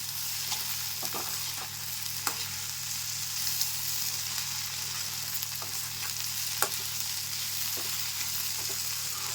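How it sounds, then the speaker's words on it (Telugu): Okra fry (bendakaya vepudu) with green chillies and chilli powder stirred in a pan, a steady close sizzle with occasional sharp scrape clicks of the spoon against the pan, no talking. "కారం అంతా వేగేంత వరకు కలుపుకొని స్టవ్ ఆఫ్ చేసేస్తాను"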